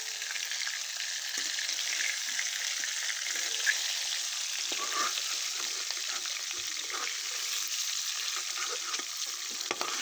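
Fish frying in oil on a clay stove, a steady soft sizzle and crackle throughout with occasional pops and light stirring, close and fairly quiet, with no talking.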